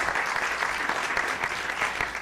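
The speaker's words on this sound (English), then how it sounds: "Let's give them a round of applause." A luncheon audience applauds the league's founding players, a dense, steady wash of many hands clapping at moderate distance, sustained throughout without voices.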